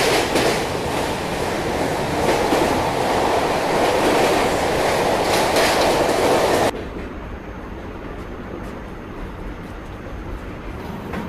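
Rajdhani Express train running on rails on the Delhi–Mumbai route near Mumbai, a loud steady rumble of wheels and carriage noise that drops abruptly to a quieter, muffled hum partway through.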